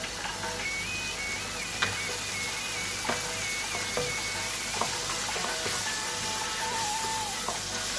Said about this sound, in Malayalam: നന്നായിട്ടൊന്ന് വഴറ്റി ഒരല്പം വെള്ളം ഒഴിച്ച് കരിയാത്ത രീതിയിൽ അതെല്ലാം ഒന്ന് ഉടയാൻ തക്കവണ്ണം അല്പം വെള്ളം ഒഴിച്ച്